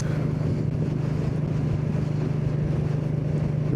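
Royal Enfield Classic 350 Signals Edition single-cylinder motorcycle running on a ride, its engine a steady low throb mixed with wind rush, heard without speech and at a moderate level.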